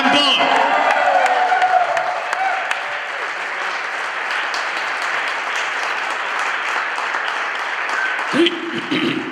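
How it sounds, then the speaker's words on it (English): A church conference congregation claps loudly and cheers in welcome, a dense sustained wave of applause with whoops that fades slightly before a voice begins near the end. "big clap, shout, welcome Dr. John Paul"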